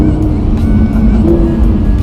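A Lamborghini Huracan supercar drives in sport mode, its engine a steady loud low drone from inside the cabin, with brief smooth dips where quick gear changes slip by almost unnoticed.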